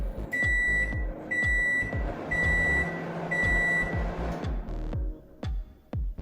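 A microwave oven powered by an EcoFlow River 2 Pro power station hums loudly with repeated high electronic beeps in a steady pattern, cutting in and out over several seconds, close by.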